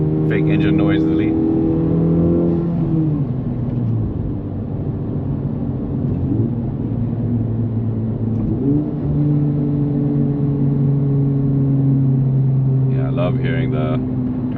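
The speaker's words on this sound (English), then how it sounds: "Love hearing the turbo noises with this intake." Honda FL5 Civic engine fitted with an aftermarket intake and exhaust, its turbo whoosh and revving harmonics rising and falling close by, sustained throughout with a voice talking over the start and end.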